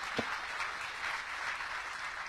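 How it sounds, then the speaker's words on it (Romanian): An audience at a gastronomy seminar gives a short, steady round of applause, a dense wash of clapping at moderate level with one brief louder thump near the start. "Aplauze!"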